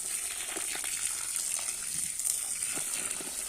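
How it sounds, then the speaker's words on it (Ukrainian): Water poured onto the soil around a newly planted one-year-old grape seedling set in a hole, a steady soft hissing trickle with faint splashes that keeps going throughout, fairly quiet and with no talking. "І поливаємо водою."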